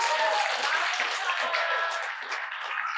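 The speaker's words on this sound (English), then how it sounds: "she really deserves a big round of applause" Wedding guests at a ranch reception applaud steadily, a dense, fairly loud wash of clapping that holds for about three seconds and eases off slightly toward the end.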